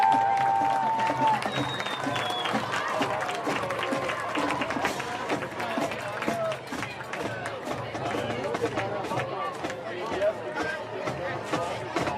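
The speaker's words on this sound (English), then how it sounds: "Get a round of applause for the Eastern Eagles Marching Band." Stadium crowd applauding the Eastern Eagles Marching Band at a live football game, a steady dense wash of clapping and crowd noise with chatter mixed in throughout.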